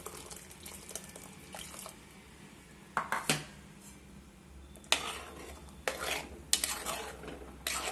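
Rinsing a mixer grinder jar and pouring in water in a home kitchen, with clinking of the jar and utensils, water swishes and several sharp knocks, close and without talk.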